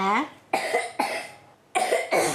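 A child coughs in a series of harsh, separate bursts, close and loud, with a hoarse vocal edge at the start.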